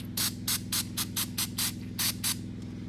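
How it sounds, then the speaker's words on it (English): Repeated short hissing bursts from an aerosol can of brake cleaner, about ten quick sprays in a steady rhythm, close up over a low constant hum. "we're gonna use a little bit of brake clean here"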